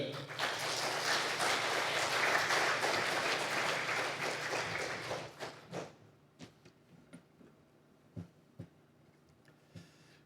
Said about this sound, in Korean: 우리 나오실 때 큰 박수 보낼까요?